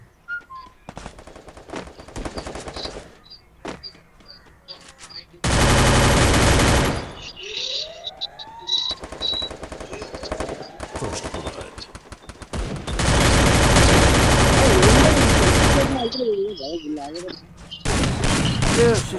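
Gunfire in the Free Fire battle royale game: scattered rapid shots and several long, loud sustained machine-gun bursts, with a voice talking between them.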